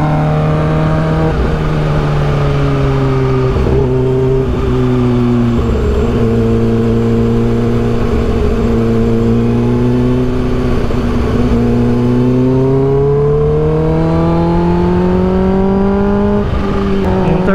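A Kawasaki H2 motorcycle accelerates hard in third gear, its engine note climbing steadily in pitch and staying loud and close throughout, with strong rising harmonics and no speech.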